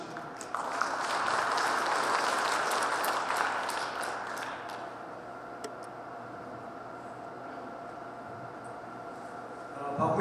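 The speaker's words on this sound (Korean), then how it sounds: "뜨거운 박수로 환영해 주시죠." Audience applause welcoming the incoming chairman at a Korean hometown association's chairman inauguration ceremony, a dense steady clapping that swells for a few seconds and then settles into a softer, continuing patter.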